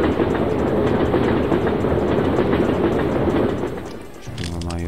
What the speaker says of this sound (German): dann werden wir wahrscheinlich vom Zug überfahren